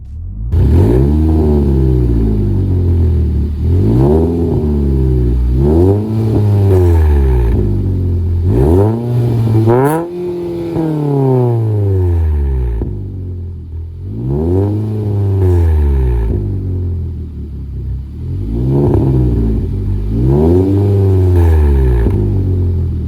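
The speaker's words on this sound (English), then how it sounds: "We'll go ahead and see how the exhaust sounds" A 2015 Kia Soul four-cylinder engine revs repeatedly, its exhaust note rising and falling in steady waves, loud and close with a deep rumble and no voices.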